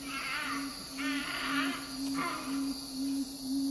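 Summer insects chirp in the dry eastern half of Tasmania, a steady pulsing drone of repeated short chirps that carries on evenly throughout, with a thin high buzz above it.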